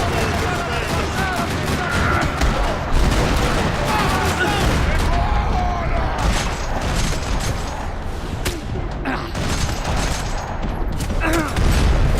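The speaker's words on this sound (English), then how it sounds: "Another parking lot rattling with gunfire." Continuous, rattling bursts of gunfire in a parking lot in the video game Max Payne 3, many rapid overlapping shots throughout, loud and close, with occasional voices beneath.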